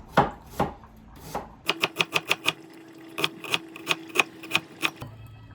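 A knife chops fresh garden dill on a cutting board: a few scattered cuts, then a quick run of crisp, evenly spaced taps, close and clear with no talking.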